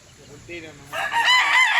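Fighting cocks raised for cockfighting crow loudly and close by, a strained rising call building over low background murmur and voices.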